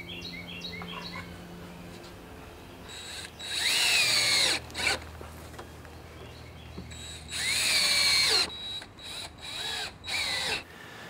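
A power drill drives 2-inch screws into potting bench boards in two long bursts, winding up and down, with shorter bursts after; faint bird chirps sit in the quiet gaps.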